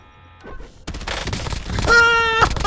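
Gunfire in the Call of Duty Warzone video game, a quick burst of rapid shots and impacts after a brief quiet start, layered with game sound effects and a sustained tonal chime near the end.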